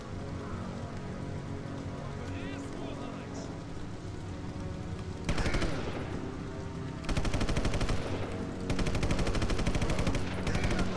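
Gunfire in the Sniper Elite video game: bursts of rapid, rattling shots erupt midway and repeat in loud sustained volleys over a steady background bed, with a brief pause between bursts.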